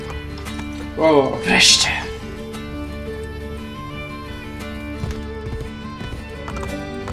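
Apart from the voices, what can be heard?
horse galloping and neighing, video game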